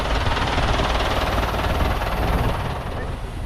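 A tractor engine idles nearby during the summer harvest, a loud, dense, throbbing roar that holds steady before easing slightly at the end.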